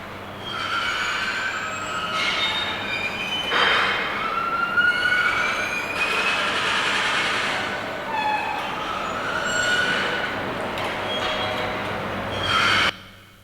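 Kinetic sculpture artwork producing a continuous mechanical screech with high squealing, metallic tones like train wheels on rails, holding steady at moderate loudness for about thirteen seconds with shifting pitched whines and no talk.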